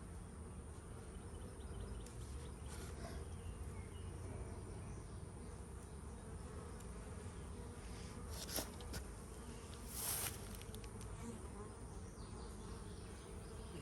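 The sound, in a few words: honey bees buzzing around a hive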